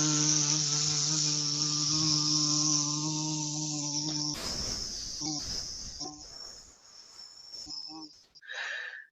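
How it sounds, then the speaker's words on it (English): A loud, steady insect drone buzzes close by for several seconds with a strong harmonic whine, then breaks into rustling bursts and a final brief buzz. "Many people hear a loud buzzing sound."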